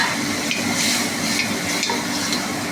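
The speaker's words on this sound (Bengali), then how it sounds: "এবার একটু আমি জল দিয়ে দেবো বেশি করে, মাছটা দিয়ে একটু পাকিয়ে নেব।" Catla fish curry cooks in a pan with masala and added water, giving a steady broadband sizzle with a few soft scraping stirs and light clinks of a utensil against the pan, close and continuous, with no talking.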